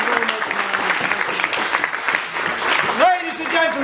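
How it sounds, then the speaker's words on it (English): Audience applause for a guest from the British Museum at a live show, steady clapping from a crowd throughout, with a voice speaking and a tonal sound rising near the end. "big round of applause for Mary from the British Museum"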